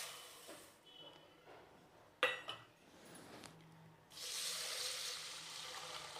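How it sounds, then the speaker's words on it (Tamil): Moong dal is washed in a kitchen sink: a few soft clinks and a sharp knock of a vessel, then tap water pours steadily and hisses for the last couple of seconds. "முதல்ல பாசிப்பருப்பை நல்லா தண்ணி ஊற்றி கழுவிக்கலாங்க"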